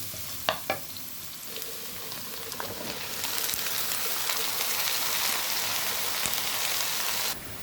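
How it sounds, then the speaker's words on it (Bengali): Chopped onion frying in hot oil in a pan, a few sharp clinks at the start, then a steady, close sizzle that swells louder midway and holds before ending abruptly. "এদিকে আমি পেঁয়াজটা দিয়ে নিলাম, তেল ভেজে নিলাম।"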